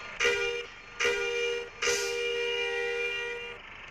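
A bus horn in the Bus Simulator Indonesia game blares three times, two short blasts then one longer sustained honk, loud and close with a bright tonal buzz.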